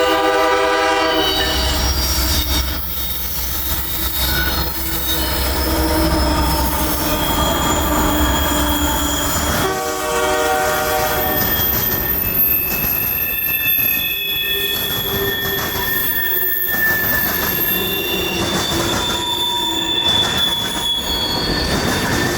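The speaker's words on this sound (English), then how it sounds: "our train could be heard in the distance" A northbound freight train rolls past in Florida with loud, sustained wheel squeal and shrill screeching tones, a horn sounding early, rumbling throughout.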